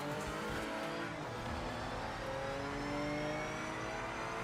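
Race car engines from the video game Project Motor Racing roar steadily throughout, a continuous loud drone of revving with shifting pitch and hints of tire squeal, no talking.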